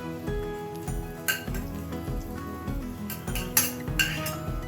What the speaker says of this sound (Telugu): ఇలా ధనియాలు వేసేసుకుందాం. అలాగే జీలకర్ర కూడా వేసేసుకుని వేయించుకుందాం